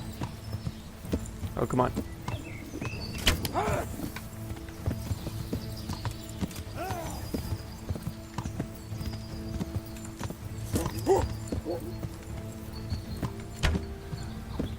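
Steady hoofbeat clip-clop of a horse being ridden in Kingdom Come: Deliverance, running throughout at a walking rhythm under a man's occasional speech.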